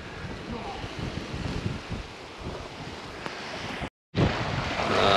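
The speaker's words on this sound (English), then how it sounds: "Very nice little beach. And this is actually Horseshoe Bay." Waves wash onto the beach at Horseshoe Bay in Bowen, Queensland, a steady surf rush mixed with wind buffeting the microphone, with a brief dropout near the end.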